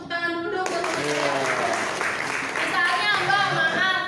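An audience claps at an earthquake-safety demonstration, a broad, steady patter of applause with voices talking over it throughout.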